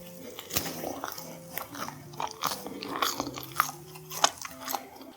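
Salt bread, a firm, dense bun, being bitten and chewed close up, with repeated soft crunchy bites and mouth noises over about five seconds and no talking.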